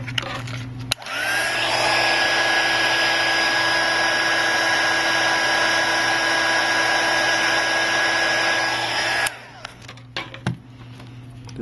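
A heat gun blows a steady, loud whooshing hum with a high whine for about eight seconds while heating a cracked iPhone 5C or 5S screen, then clicks off, leaving small handling noises.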